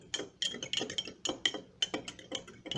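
A spoon stirs yogurt into milk, tapping and clinking against the container in a steady rhythm of soft, close knocks with no talking.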